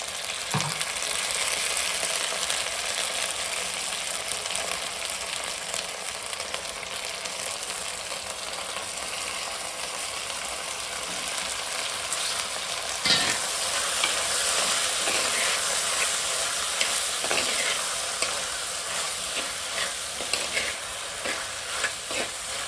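Potatoes, tomato and brinjal sizzle steadily in a pan while being stirred, a continuous frying hiss with occasional scraping clinks of the spoon.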